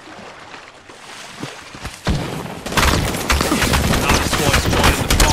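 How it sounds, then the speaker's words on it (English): Sustained gunfire in Apex Legends builds from scattered shots into a loud, continuous rattle of automatic weapons and impacts, close and intense for several seconds. "They're shooting at me"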